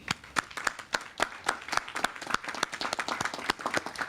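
Steady applause from a crowd at a ribbon cutting, many hands clapping at once in a dense, continuous patter, moderately near.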